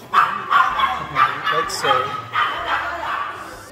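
Dogs barking at home in the Philippines, a series of sharp, repeated barks and yips close by, with a person talking over them.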